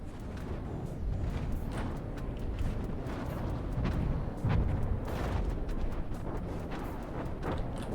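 Huge missiles launching in the naval combat game From the Depths, a dense, continuous roar of rumbling blasts and booms with repeated sharp bursts layered over a steady low-end wash, loud throughout with no voices.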